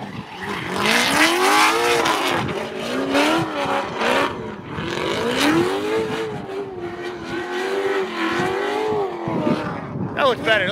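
A race car laps a track on a pre-season test day, shown in close onboard view. It is set up with new front shock valving, spring rates, alignment and tire pressures. The engine revs rise and fall steadily while the tires squeal, and voices talk over it throughout.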